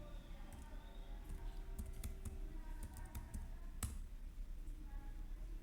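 Faint, quick keystrokes tap on a computer keyboard, an irregular run of light clicks with one sharper key press partway through, over low room hum.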